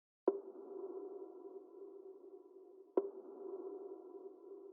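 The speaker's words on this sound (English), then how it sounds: "this little percussion hit. This is gonna sit subtly in the background." A subtle percussion hit in a music beat, struck twice about two and a half seconds apart, each a sharp attack that rings into a sustained, hollow low-mid tone sitting quietly in the background with no voices.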